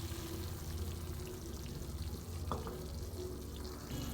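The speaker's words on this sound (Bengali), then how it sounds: "দেখো আমি তেঁতুলের পাল্পটা দিচ্ছি।" Tamarind pulp poured into a hot frying pan of stems and fried lentil dumplings sizzling in spiced oil, a brief wet splash landing over steady close frying hiss.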